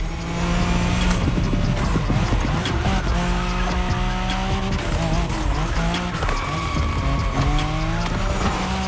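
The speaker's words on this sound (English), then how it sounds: "When you manage to drift this bulky bodywork, it's just magic." A bulky-bodied car drifts in the racing game The Crew Motorfest, its tires squealing steadily over a droning engine whine, loud and continuous throughout without any talking.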